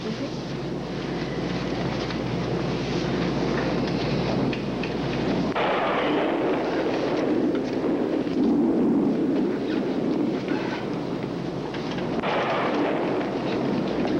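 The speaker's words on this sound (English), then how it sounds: "We're just experiencing some turbulence as we go through a little electrical storm." A thunderstorm rages outside an airliner in flight, with heavy rain hissing steadily and deep thunder rumbling and booming in long rolling swells. It is loud and continuous, with no talking.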